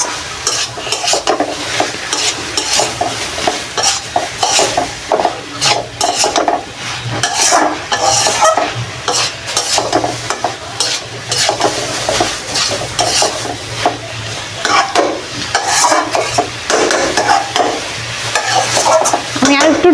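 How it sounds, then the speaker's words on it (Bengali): Cabbage and potato curry frying in a pan as garam masala paste is stirred through it, with loud repeated scraping strokes of a spatula over a continuous sizzle, steady and close, without talk. "এখন আমি এই গরম মশলাটা ভালোভাবে নেড়ে চেড়ে নেব, যেন সবটার সাথে মিশে যায়।"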